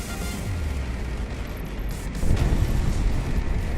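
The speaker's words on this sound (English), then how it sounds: "Then now to do something about the incessant explosions around me." Constant rumbling explosions of a video game battle fill the background, a heavy dense roar with a louder boom near the middle, continuing without pause.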